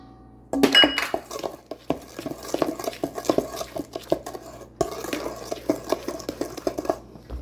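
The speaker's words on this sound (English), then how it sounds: "You want everything mixed together. You don't want any powder showing in here." Cocoa brownie batter is stirred in a bowl, with a utensil clinking and scraping against the sides in a brisk, uneven rhythm, close and moderately loud.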